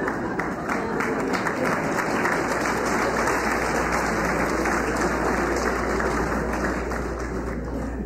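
Sustained applause from a live audience at a stage comedy show, dense steady clapping filling the whole stretch at even loudness with no talk over it.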